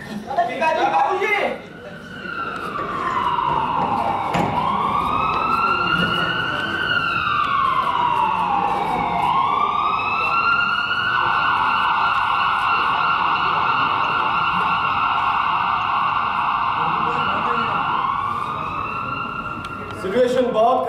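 An ambulance siren wails loud and close for nearly the whole stretch, its pitch sweeping up and down in long continuous glides before settling into a sustained tone.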